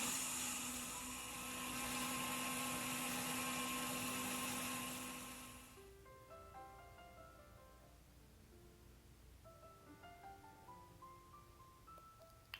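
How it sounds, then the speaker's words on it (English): A blender purees soaked soya beans into a smooth paste, with a loud, steady whirring grind for about six seconds before it cuts off and leaves a quiet room. "I'll cover the blender and blend it into a smooth paste."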